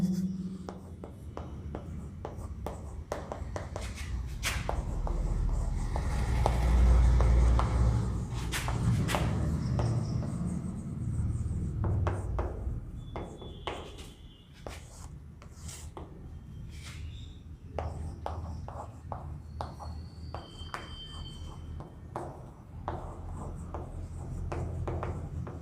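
Chalk or pen writing a chemistry formula on a board during a solutions lecture, continuous scraping strokes with occasional taps and thumps, fairly close, with no talking.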